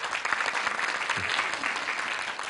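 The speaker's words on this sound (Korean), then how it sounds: "예, 박수로 한번 청해볼까요?" A television talk-show audience in Seosan claps steadily for a few seconds, a dense, even wash of applause with no speech over it.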